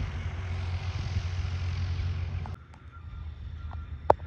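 A steady low engine drone of a passing airplane near Galesburg airport fills the first half, then fades to quieter background noise with a brief sharp click near the end.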